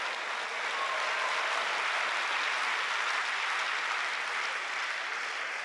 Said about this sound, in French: les applaudissements pour Nina Skerbins, l'Autrichienne